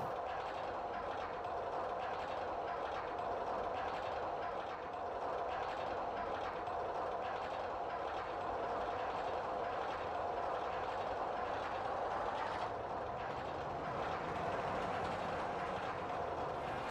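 Trains running on a track in RollerCoaster Tycoon 2, a steady continuous rumble and rattle of wheels with faint clickety-clack, holding at an even level throughout with no talking.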